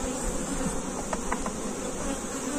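Honeybees buzzing around a beehive during an inspection, a steady close hum with a few louder individual buzzes passing near.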